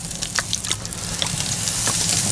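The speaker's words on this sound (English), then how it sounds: "Oh yeah, listen to that sizzle." Pork ribs on a grill sizzle steadily after a vinegar mop sauce is brushed on, a continuous close frying hiss with small pops and crackles throughout.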